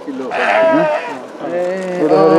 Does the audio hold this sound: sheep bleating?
yes